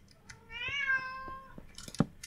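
A house cat gives one long, drawn-out meow close by, rising then falling, followed by a few faint clicks and light knocks in a quiet room.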